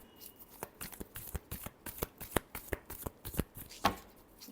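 A deck of tarot cards is shuffled by hand nearby, a quick run of crisp riffling snaps and taps in an uneven rhythm, fairly quiet and without speech.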